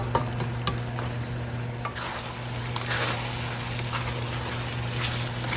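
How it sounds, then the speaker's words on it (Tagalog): Pork menudo simmering in a pot as it is stirred: steady bubbling and sizzling under a constant low hum, with scraping knocks of the spoon against the pot. "So, ihalo natin. Hayaan muna natin siyang kumulo."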